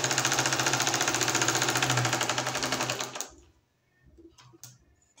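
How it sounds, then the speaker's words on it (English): A sewing machine stitching a tight seam down a pencil skirt runs with a fast steady whirring chatter for about three seconds, then stops, leaving a few soft clicks and handling sounds. "I'll continue with this tight stitch downwards like so, making sure that I'm sewing on the line"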